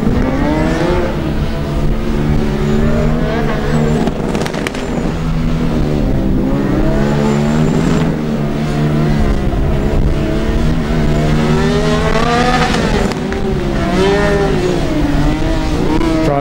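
A Formula Student race car engine on an endurance lap revs up and down loudly and nearby, with uneven, stuttering misfires breaking up the engine note.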